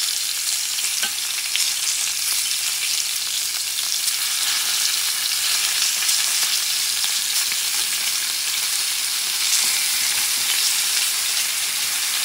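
A bison tomahawk ribeye sizzles loudly in a cast iron pan with butter, a steady, dense hiss and crackle running unbroken and close throughout with no talking.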